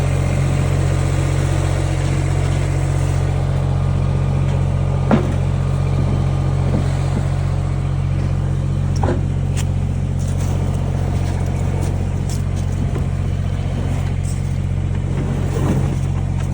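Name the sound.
tractor engine running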